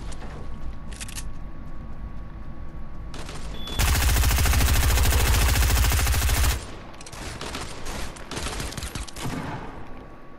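Video game gunfire crackles in scattered bursts before a sustained, loud rapid-fire volley of about three seconds, followed by more intermittent shots and clatter, with no speech.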